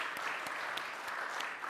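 A church congregation claps together, a moderate wash of hand claps with a few sharper individual claps standing out, heard somewhat distant and soft.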